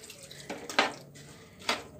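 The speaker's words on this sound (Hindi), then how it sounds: "तकरीबन दो कप मैं पानी ऐड कर रही हूँ" Water poured into a pot holding chicken and lentils for shami kabab, with a few short splashing bursts separated by quieter gaps, close by.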